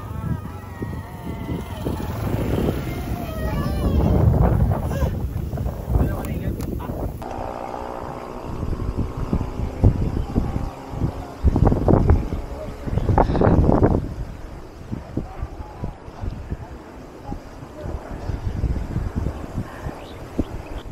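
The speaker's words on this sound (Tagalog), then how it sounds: "Ang lakas ng hangin." Strong mountain wind in the Sierra Madre near Pililia, Rizal buffets the microphone in heavy rumbling gusts that surge and ease, with people talking intermittently and a vehicle's hum faintly underneath.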